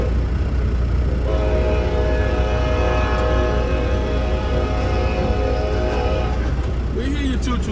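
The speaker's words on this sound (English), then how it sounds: "We hear you, choo-choo train." A loud, steady rumble of a passing train with sustained horn-like tones rising over it, constant and close throughout.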